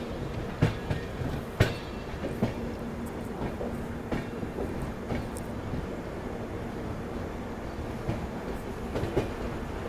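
The 20103 LTT Gorakhpur Superfast Express from Mumbai to Gorakhpur rumbles steadily along the rails, with clickety-clack wheel knocks and occasional louder jolts over a continuous loud roar.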